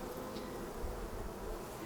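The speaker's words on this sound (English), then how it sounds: "just shake those bees off out front of the hive" Honey bees buzzing around the front of a hive during a colony split, a steady, low, continuous hum heard close up without pause.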